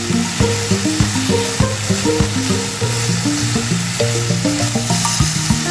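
Sliced cabbage and chopped capsicum cook in a pan for a creamy chicken patty filling, giving a steady, loud sizzle with stirring scrapes running throughout, and no voices.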